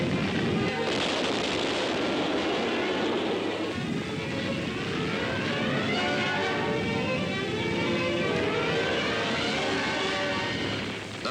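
A large explosion aboard the aircraft carrier USS Franklin in wartime footage: a sustained, loud roar of blast and fire runs the whole way through, with crackling bursts and no speech.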